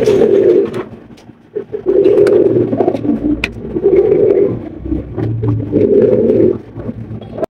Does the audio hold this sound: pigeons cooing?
yes